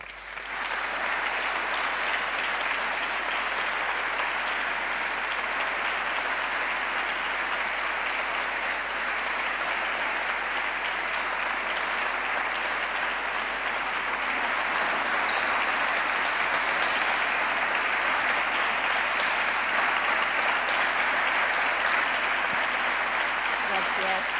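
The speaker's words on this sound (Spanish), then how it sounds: "Vamos a recibirlas, por favor, con un cálido aplauso." A warm, sustained round of applause from an audience at an award ceremony rolls on steadily and loudly for over twenty seconds, dense clapping without a break.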